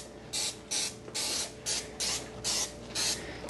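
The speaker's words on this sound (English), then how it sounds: "Another trick to using Pam in your kitchen is spray over the sink." Pam cooking spray sprayed over a kitchen sink in a series of seven short, close hissing bursts with brief gaps between them.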